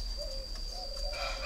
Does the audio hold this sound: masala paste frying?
no